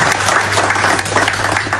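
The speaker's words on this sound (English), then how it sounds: "Please, another round of applause for him." An audience at a formal event honouring Governor Alex Otti of Abia State, Nigeria, gives a round of applause, dense steady clapping close and loud throughout, with no talk over it.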